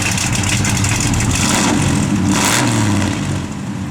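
1972 Chevrolet Cheyenne with a big block engine, running loud and close with a deep, rough steady rumble and a slight rise in revs partway through.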